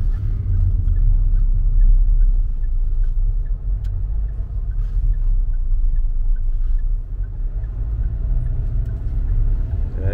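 A SsangYong Tivoli with a 1.6 turbo engine drives on a road in Jeju, heard from inside as a steady, loud low engine rumble and road noise with slight swells as it pulls ahead.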